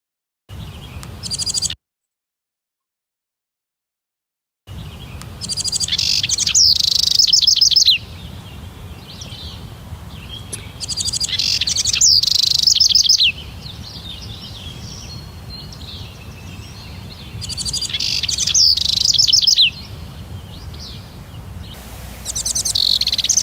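Bird calls captured by a parabolic collector microphone, with repeated bright chirping phrases in bursts from one bird, over steady insect or cricket-like background hiss, with a short silent gap early on.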